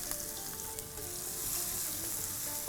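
Mustard seeds and spices crackling in hot oil while tempering a tadka for stuffed gatte sabji, a dense close sizzle with quick popping crackles throughout, no talk.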